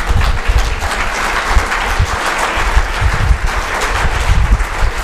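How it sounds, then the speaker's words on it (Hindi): Loud, sustained applause from a large audience at an indoor sales training event, dense clapping filling the room without pause for several seconds. "पहले एक बार जोर से ज़्यादा तालियां चाहिए मुझे।"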